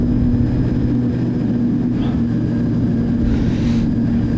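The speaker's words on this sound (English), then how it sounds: "The airplane seems a slight bit faster." An RC model airplane engine drones loudly and steadily in flight at a club flying field, a continuous buzzing hum that stays strong throughout with faint wind noise.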